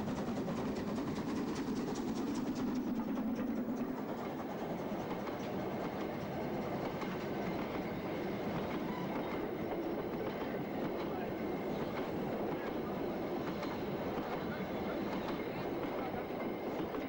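German narrow-gauge steam train climbing to the Brocken summit, heard as a continuous loud rumble and clatter of wheels, with a possible voice underneath.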